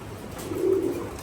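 Breeding pigeons in a loft, one giving a single short, low coo close by over a quiet background.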